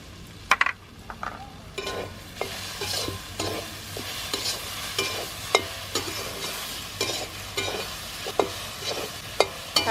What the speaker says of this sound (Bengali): বেশক্ষণ টাইম লাগে না শাকটা ভাজতে